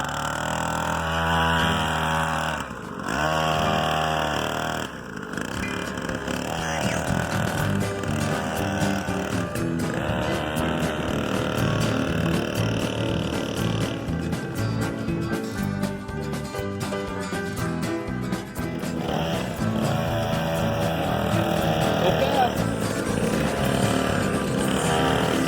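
A child's small dirt bike engine runs close by, a buzzy continuous drone whose pitch rises and dips as the throttle changes, with a brief dip near the start.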